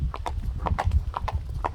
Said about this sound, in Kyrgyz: мүмкүн болсунча басып көргөзөбүз атты